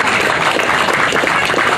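Crowd applause at the Festival Pesona Lokal in a Jakarta plaza, broad continuous clapping that stays loud and even throughout.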